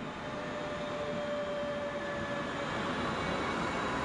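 DB class 424 S-Bahn electric train running on the Hannover S5 airport express line, a steady near rolling rumble with a faint motor whine throughout, no voices.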